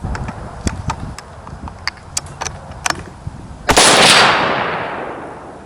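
A Ruger American 6.5 Creedmoor rifle fires one sharp, loud shot at a range, and its echo dies away over a second or two. Scattered light clicks and distant pops come before it.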